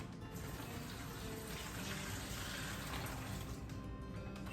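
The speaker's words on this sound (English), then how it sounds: "take this glass of water and we're gonna pour it in here" Water poured steadily from a glass into a container of barbecue chicken wings, a continuous close splashing rush that keeps going for the whole stretch with no talk over it.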